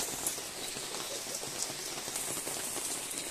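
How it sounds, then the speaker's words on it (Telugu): Steady rain patters outdoors in a garden where a brahma kamalam plant has bloomed, a dense, even hiss of drops striking surfaces close to the microphone with no voices. "కానీ వర్షం వచ్చింది."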